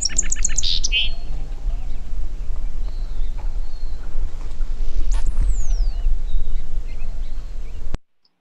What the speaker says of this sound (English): One thing I do love about hummingbirds is they have a very tweety, soft sound. It's kind of fluttery if you listen to it.